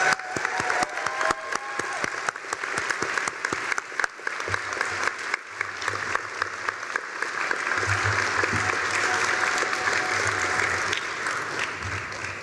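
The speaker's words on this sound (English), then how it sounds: "how about a round of applause for all of our graduates" A crowd at a medical school graduation ceremony applauds steadily and loudly for the graduates, dense clapping sustained throughout with some distinct nearby claps early on and a faint murmur of voices underneath.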